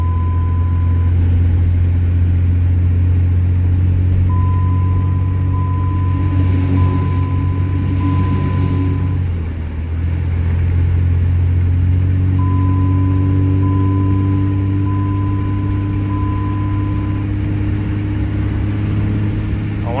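Steady engine and road drone from inside a moving car just after a transmission cooler repair, loud and constant, with a chime sounding on and off throughout.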